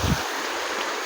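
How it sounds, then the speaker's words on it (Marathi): Flooded river in spate, a close, steady rush of turbulent water with one brief louder splash at the start. "नदीला पाणी आलेलं आहे"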